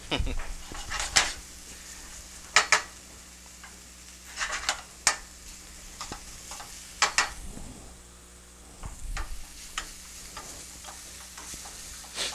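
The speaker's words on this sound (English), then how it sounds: "cooking this onion down to as it softens is it gets it a little bit more sweet" Chopped onion softening in a hot pan for pollo a la naranja, with a soft sizzle and a scraping utensil stirring in scattered bursts, fairly close and not loud.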